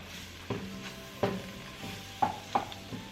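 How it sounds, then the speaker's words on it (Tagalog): Beef stroganoff being stirred after flour goes in, a spoon scraping the bottom of the pot in several distinct strokes over a faint sizzle, close by with no talking. "And while you're stirring, keep scraping the bottom of your pot"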